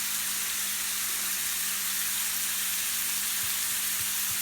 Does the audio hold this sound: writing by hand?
no